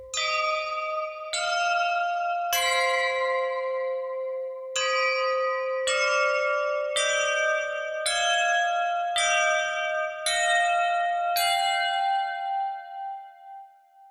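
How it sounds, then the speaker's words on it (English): Synthesized tubular bells with no samples, struck one at a time in a slow descending-then-rising sequence. There are about nine clear metallic strikes with long ringing overtones, which fade out at the end. "There's tubular bells."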